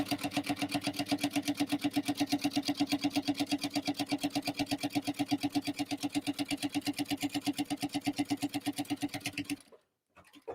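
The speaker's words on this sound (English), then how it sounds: "I'm just sewing this at 3/8 of an inch." A sewing machine stitches tote bag straps at a 3/8-inch seam, running in a fast, even mechanical chatter close up for nearly ten seconds before stopping abruptly, followed by a faint clunk.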